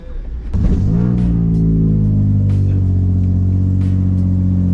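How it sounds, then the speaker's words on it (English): A Nissan 350Z engine revs hard and holds a loud, steady roar with a rough, raspy edge from a holed, leaking exhaust, close up and continuous. "I think I already made a hole in the exhaust"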